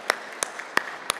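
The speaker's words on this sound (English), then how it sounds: "I'd like you all to give yourselves a round of applause" An audience at a conference applauds, heard as a few distinct, evenly spaced claps rather than a full round of applause.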